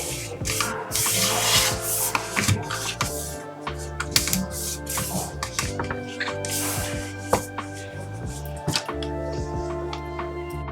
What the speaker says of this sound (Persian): همونجوری اول میذاریم درب پشت اینجا، سطح پلاستیکی رو فشار بدیم، چف میشه